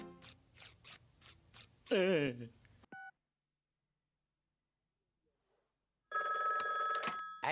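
A cartoon telephone in The Simpsons rings in a rapid burst of bright, warbling electronic trills, loud and close, first after a few short clicks and sung tones, then again after a long silence.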